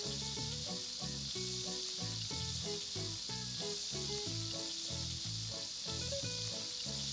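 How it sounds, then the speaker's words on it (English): Steady sizzling of Greek meatballs frying in a pan, with soft music playing over it throughout. "we're just frying up the last part of the burger"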